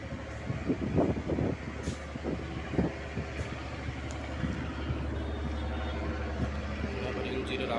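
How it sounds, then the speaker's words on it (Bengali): A Bangladeshi passenger launch's engine running at the rear of the ferry, a steady low rumbling drone that continues under intermittent talk and knocks. "আবার ইঞ্জিনের আওয়াজ।"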